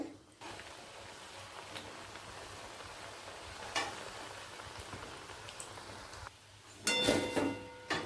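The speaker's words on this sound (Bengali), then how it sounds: "আমি এটা প্রথমে ভেজে নেব দেখুন দেওয়া মাত্রই ফুলে উঠে যাচ্ছে" Small pieces of nimki dough deep-frying in hot oil, giving a steady, soft crackling hiss through most of the stretch, then a louder, brighter burst of sizzling near the end as more pieces go in.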